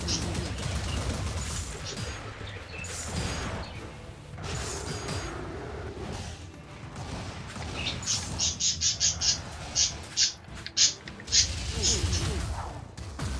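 Birds swooping and attacking in the Wizard of Legend video game, with chirpy calls and a burst of sharp repeated high tones near the end, heard over game effects and a talking voice.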